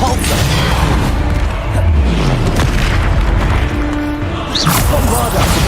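Depulso spell blasts in the video game Hogwarts Legacy, heavy booming impacts and whooshes in a loud, continuous stretch of combat, with a voice speaking over it.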